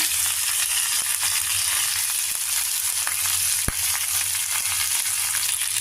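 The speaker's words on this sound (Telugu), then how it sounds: "మనం ముందరగా కట్ చేసి పెట్టుకున్న క్యాప్సికమ్ ముక్కలు కొద్దిగా మగ్గించుకోవాలి" Capsicum pieces sauté in a pan with a steady, close sizzle of frying, one sharp click partway through, and no talking.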